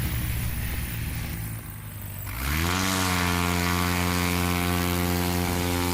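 Propeller airplane taking off at a Heritage STOL race, its engine swelling to a loud, steady drone with strong harmonic tones after a quieter opening of nearby rumble, staying close and constant.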